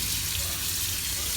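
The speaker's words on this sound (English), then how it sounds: "I put it into a strainer, and then I run some water on it" Tap water runs steadily over cut food in a strainer, a dense continuous hiss and splash, near and even from start to finish.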